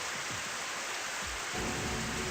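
A steady, hissing wash of video game ceiling sprinklers spraying water fills the space, broad and constant, with a few low thuds early on.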